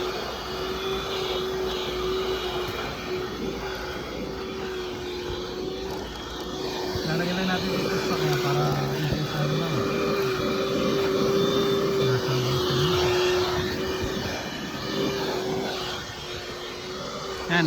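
Newly bought car vacuum cleaner, a cheap unit for cleaning a vehicle, running with a continuous whining whirr and airy roar that shifts pitch slightly, with voices talking over it at times.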